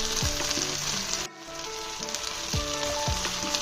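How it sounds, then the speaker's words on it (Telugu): Okra curry with sesame seed powder frying in a pan, a steady close sizzle with slow, occasional spoon strokes as it is gently mixed. "జస్ట్ నెమ్మది నెమ్మదిగా దాన్ని కలుపుకోవాలి"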